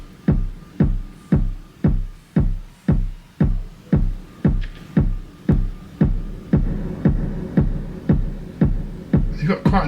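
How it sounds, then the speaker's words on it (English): A synthesized kick drum soaked in heavy reverb thumps in a steady, evenly spaced loop, each hit booming low and then tailing off, loud and unaccompanied. "You've got quite a nice kick there."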